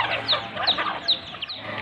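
Several chickens and turkeys cluck softly nearby at pig feeding time, with short rising chirps repeating every half second over a quiet farmyard background.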